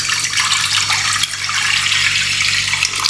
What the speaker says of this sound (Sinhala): මම ඉස්සල්ලාම කරන්නේ මේ වතුර එකතු කරගන්නවා